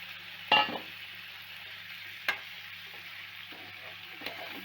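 Rice frying lightly in oil with peas for peas pulao, stirred in a pan with a few scraping strokes over a faint steady sizzle, no talking.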